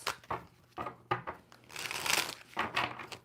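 Tarot cards are shuffled in quick bursts of riffling and flapping, close and fairly quiet, with short pauses between the shuffles.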